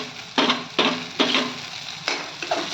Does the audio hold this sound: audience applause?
no